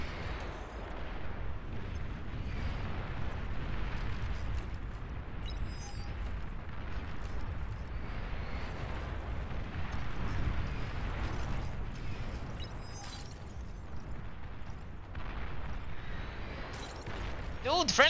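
Friendly-fire explosions rumble without a break in the Beyond All Reason Nuclear Winter strategy game, a dense low booming roar with scattered crackles, and a voice speaks over it.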